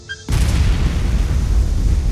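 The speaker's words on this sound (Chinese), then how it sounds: "车厂发生了剧烈爆炸" A violent explosion rips through a military vehicle depot in an action film, a sudden loud boom followed by a sustained deep roaring rumble with no speech.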